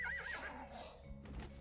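A horse in a video game gives a short, loud whinny that trails off, followed by a couple of hoof clops, heard alone.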